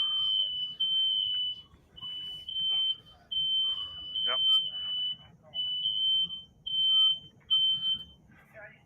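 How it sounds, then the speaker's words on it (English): A smoke alarm beeps repeatedly in long, piercing, high-pitched tones at a steady rhythm, about a dozen in a row, while voices murmur in the background. "I don't need to hear fire alarms."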